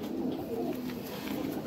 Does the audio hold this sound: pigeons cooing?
yes